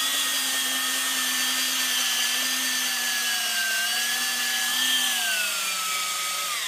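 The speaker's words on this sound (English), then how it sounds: "Don't run your drill too fast." A steady high-pitched whirring of a drill-driven Lee case trimmer cutting brass cartridge cases, continuous and fairly close, with the pitch drifting slightly.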